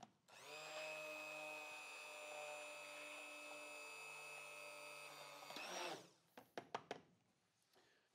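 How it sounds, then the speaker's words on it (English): A hand blender whirs steadily at a constant pitch for several seconds while emulsifying chocolate mousse, then shuts off, followed by a few sharp knocks and clatters. "Use a hand blender to complete the emulsion."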